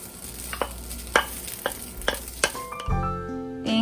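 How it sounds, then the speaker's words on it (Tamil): Grated coconut being stirred into rice in a hot pan, a spoon scraping and knocking the pan in regular strokes over a faint sizzle, close up, with no talk. "தேங்காய் பூ சாதத்துக்கு நான் எடுத்து வச்சுருக்கதை நான் இதில் போட்டு மிக்ஸ் பண்ண போகிறேன்"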